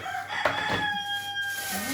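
A rooster clucks and gives a short crowing call nearby, a couple of throaty bursts over quiet outdoor background.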